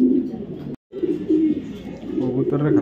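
Racing pigeons in full moult coo in low, throaty rolling calls, close and fairly loud, with a brief gap and overlapping soft murmurs.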